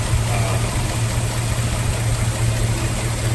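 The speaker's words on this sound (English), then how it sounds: "You can see just how smoothly the engine runs." A 1955 Ford Thunderbird's 292 V8 idles smoothly and steadily, a close, even low rumble with a constant hum and no revving, heard alone without talk.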